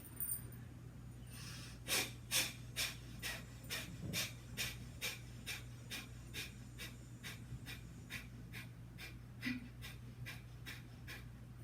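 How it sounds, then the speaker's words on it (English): Kapalabhati yoga breathing: a steady train of about two dozen forceful, rapid nasal exhales, each a short sharp puff at an even rhythm, close and fairly quiet over a low background hum. "For Kapalabhati, I inhale deeply and I exhale as fastly and as"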